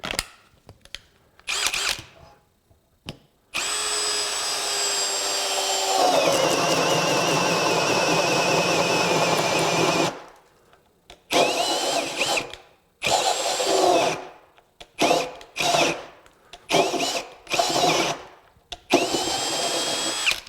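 RIDGID R86115 brushless 1/2-inch hammer drill boring into wood: a long loud whining run that shifts pitch midway, then a series of short stop-start bursts of high-revving motor separated by silence.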